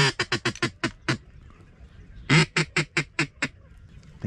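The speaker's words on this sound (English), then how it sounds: "I think that was ducks." Ducks quacking out on Louisiana public hunting land, a quick run of sharp quacks, a pause, then a second burst of about eight quacks, fairly close and clear.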